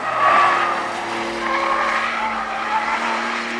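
A Porsche 911 of the 992 generation with a 450-horsepower 3-litre turbo six is pushed hard around a race track, its tires squealing loudly and steadily over the sustained engine note, heard up close.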